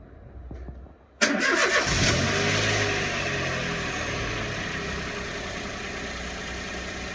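A Peugeot 107 engine cranks briefly and catches, roaring up loudly before settling into a steady idle rumble that continues to the end.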